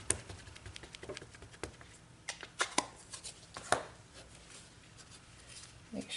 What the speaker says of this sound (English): I'll take my Versamark ink and just ink it up really good.